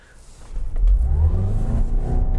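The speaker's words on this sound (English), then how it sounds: "That's actually pretty quick. Engine and the electric drivetrain, and we're already up to national limit there." A Toyota RAV4 hybrid pulls away under acceleration with the engine and electric drivetrain working together, its engine note rising and swelling loud and close, with a rising tonal whine over the low rumble and no talking.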